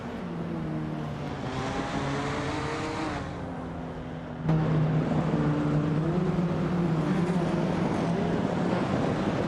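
Race cars including a Porsche 911 930 Turbo screaming past on a circuit, a rising and falling engine note followed by a louder nearby car taking over at a steady high roar.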